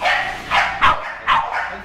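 Corgis at a breeding kennel bark in several sharp, close bursts, each separated by brief pauses, loud and clear with no talk over them.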